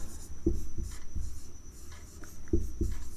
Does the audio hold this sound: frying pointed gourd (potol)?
no